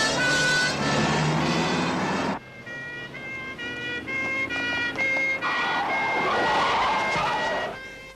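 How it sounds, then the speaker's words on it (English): A police siren wails near, then cuts out sharply partway through, and its tonal sweep returns later over engine noise and road rumble. "Kill the siren."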